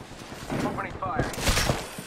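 Rapid gunfire in a Call of Duty match rattles through a dense, continuous bed of game noise, with a player's voice calling out over it.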